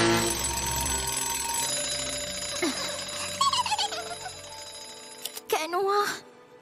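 Electronic alarm ringing with rapid repeating tones, followed by rising chirps and bright beeping bursts, fairly close and loud.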